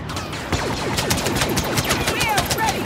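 Continuous rapid blaster fire in Star Wars Battlefront on Hoth, many overlapping shots with descending laser zaps, loud and dense throughout.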